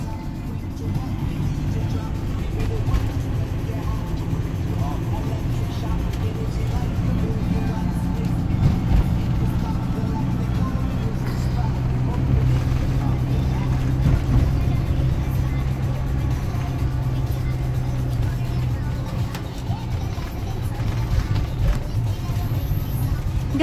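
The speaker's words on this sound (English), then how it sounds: "now we drive on the dam" A car drives along a road across a dam in Portugal, heard from inside as a steady low engine and road rumble that stays constant throughout, with people talking over it now and then.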